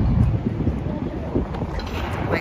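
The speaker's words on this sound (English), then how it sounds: "It's very windy" Strong wind buffets a microphone outdoors in a city, a steady low roar and rumble throughout, with faint speech partly buried beneath it.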